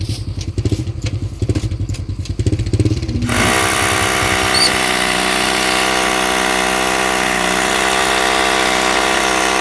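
A power drill bores into a post during house construction work. After a few seconds of uneven knocking and handling, a loud, steady motor whine holds close and continuous to the end.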